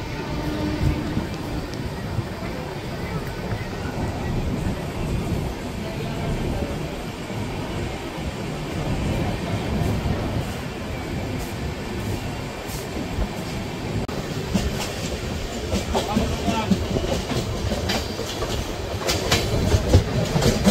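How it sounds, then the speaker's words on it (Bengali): Tamralipta Express pulling out of Mecheda station, heard from aboard: steady rumbling wheels with rhythmic clickety-clack over rail joints, growing a little louder toward the end, no one speaking. "এই যে ট্রেন কিন্তু মেচেদা স্টেশন ছেড়ে বেরিয়ে যাচ্ছে।"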